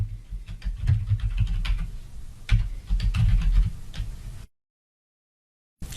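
Keys clatter on a computer keyboard as a web address is typed, a quick irregular run of close, crisp taps over a low hum that stops in sudden silence before a faint final click.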